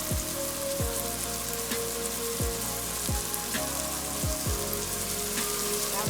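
Mild Italian sausage and ground beef browning in a pan, a steady close crackling sizzle with faint pops and a few spoon scrapes, no talk over it.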